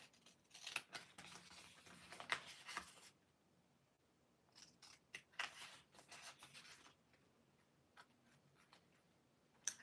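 Scissors snip through paper for a monthly journal, a fast burst of crisp cuts followed by scattered quieter snips and paper rustles, close and fairly soft.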